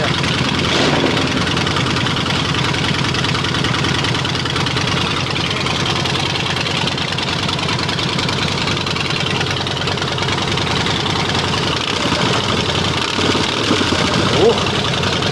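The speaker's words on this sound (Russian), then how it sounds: "Как все-таки классно работает Харлей." A Harley-Davidson motorcycle engine idles at a motorcycle rally, a loud, lumpy, continuous rumble close by for the whole stretch, with voices and crowd noise underneath.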